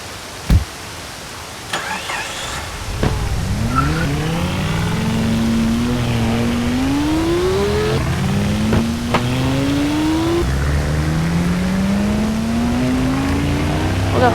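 The 'King' car in a video game revs its engine alone, climbing in repeated rising sweeps as it shifts through gears, with a few sharp clicks near the start.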